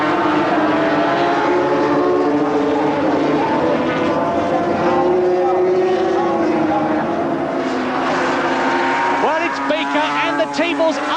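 1970s Formula 750cc racing motorcycles, a Kawasaki among them, stream past at Brands Hatch in 1977, a loud continuous engine roar that rises and falls as the bikes go by, with a commentator talking over it.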